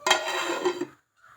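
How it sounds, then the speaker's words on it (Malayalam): A lid is set over a pot of fish curry on a gas stove, giving a bright metallic clatter that lasts under a second before the room falls nearly silent. "ഇനി നമുക്ക് കറി അടച്ചു കൊടുക്കാം"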